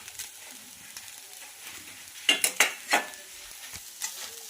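Fried egg rice with scrambled egg bhurji being mixed in a pan: soft sizzling under a cluster of sharp scraping and clinking strokes from a utensil near the middle, then a final tap. No voices.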